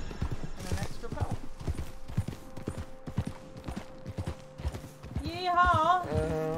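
Horse hooves clip-clop in a Wild West video game as a steady, rhythmic run of hoof strikes under a person talking, ending with a brief whinny-like sound.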